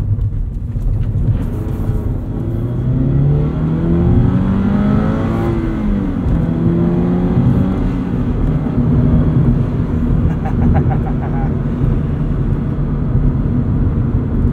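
A 2022 Subaru BRZ engine roars loudly as it accelerates, the pitch climbing through the gears with a brief dip between shifts.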